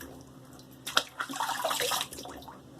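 Water runs briefly from a tap over a Gillette Aristocrat safety razor as it is rinsed, a short splashing burst of about a second, fairly quiet, with no talking.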